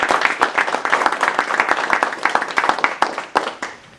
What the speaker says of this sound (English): Another round of applause for the Chief.